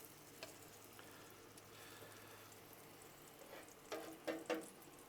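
Pork chops fry in oil in a cast iron pan, a quiet steady sizzle under a faint hum, with a few louder crackles and pops near the end.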